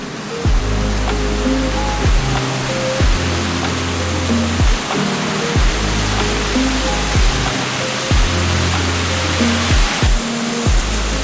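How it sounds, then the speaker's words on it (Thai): A waterfall in the cold mountains of Sapa, Vietnam, viewed from high on a bridge, makes a constant loud rushing roar. A faint repeating pulse sits beneath the water noise. "อันนี้คือน้ำตก"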